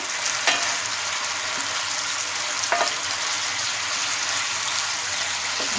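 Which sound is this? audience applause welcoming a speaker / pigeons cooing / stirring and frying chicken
stirring and frying chicken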